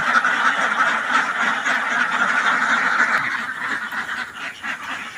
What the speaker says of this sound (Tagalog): ipalabas na po natin yung mga alagang itik natin